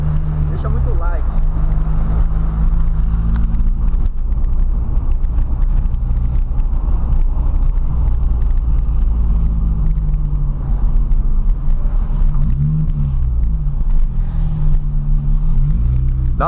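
A deep, loud car engine fitted with a sport exhaust rumbles continuously up close, its pitch swelling and dropping near the end as it revs; the car is a Volkswagen Gol.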